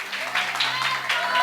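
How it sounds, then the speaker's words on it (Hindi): A group of children at a church gathering claps together, a brief burst of mixed hand claps sounding fairly close with voices mingling in the background. "सब बच्चे तालियां बजाओ तो यार,"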